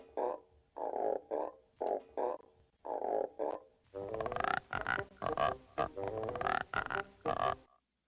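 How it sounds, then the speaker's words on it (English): Rhythmic croaking, frog-like rasps made by rubbing taut strings, first in short evenly spaced bursts, then a denser, louder run of harsher croaks. "rubbing one string across another string that was really tight in order to create the sound of frogs"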